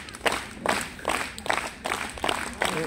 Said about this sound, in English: Everybody, a slow hand clap, please.